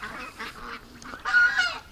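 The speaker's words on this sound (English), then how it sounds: "Come on, little ducks." Ducks calling nearby, a few raspy honking quacks in short bursts, the last one longest and loudest, with brief gaps between and no talking.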